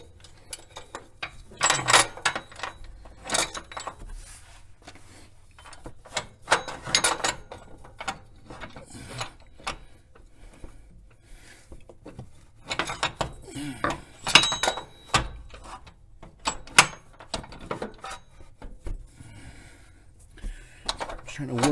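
A ratchet wrench working a 14 mm bolt on a Honda J-series V6 engine during a belt tensioner job, giving bursts of metallic clicking and clanking close up, with brief pauses between the bursts.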